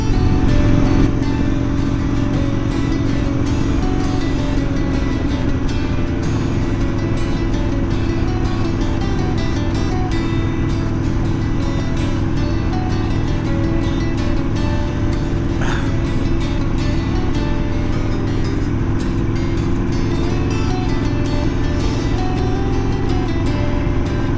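A jump-started motorcycle engine runs on its own, a steady, unchanging drone with a faint rumble that continues evenly for the whole stretch.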